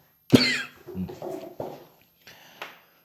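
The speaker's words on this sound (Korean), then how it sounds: "공기청정기를 털었는데도 이렇게 기침이 나요" A single sharp cough followed by a few softer throat-clearing coughs, close and dry, with brief pauses between.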